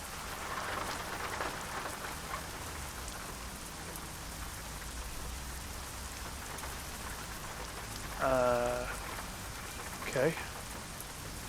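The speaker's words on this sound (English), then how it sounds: "Lovely. It's raining." Steady rain in American Truck Simulator patters evenly throughout, a broad hiss of drops on the truck, with someone speaking briefly over it near the end.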